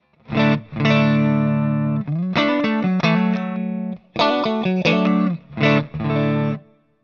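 Clean electric guitar chords through a stack of One Control pedals ring out in several strummed phrases with short gaps, shimmering slightly from effects, loud and close with no voices.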